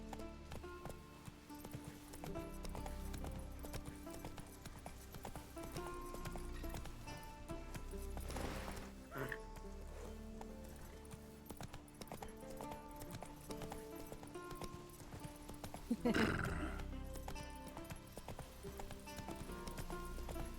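Roach the horse in a Witcher video game, steady galloping hoofbeats clip-clopping throughout with background game music, broken by two loud whinnying neighs partway through.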